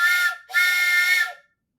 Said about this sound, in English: I'm gonna blow this train whistle for literally no reason,